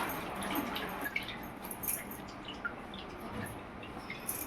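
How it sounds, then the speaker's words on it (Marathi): Homemade juice in a Konkan kitchen strains through a strainer, giving a quiet, close trickle broken by scattered small drips. "असो आम्ही रस गाळून घेतो."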